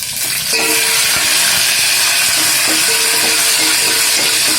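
Curry leaves drop into hot oil and sizzle loudly and steadily, a dense crackling hiss with small pops, close up and alone.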